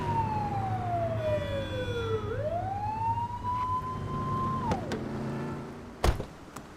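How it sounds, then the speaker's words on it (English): A police car siren in a cop video game wails in long falling and rising sweeps, loud and close, ending with a short thump. "Get behind them and flip the siren and make them pull over"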